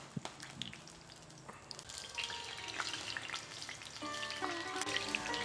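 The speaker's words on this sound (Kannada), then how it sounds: "ಕುದೀತು, ಒಗ್ಗರಣೆ ಹಾಕೋಣ." Spices are tempered in hot oil and ghee, crackling and sizzling close by. The sizzle starts soft and builds louder, with sharp pops and a few clinks of a utensil.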